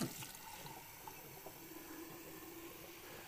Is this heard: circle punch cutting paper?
no